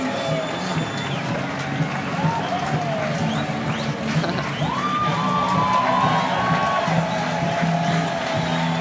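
Spectators cheer and shout along the course as a K1 men's canoe marathon paddler nears the finish at the world championships, a steady, dense crowd roar with scattered whoops and claps, broken by commentary.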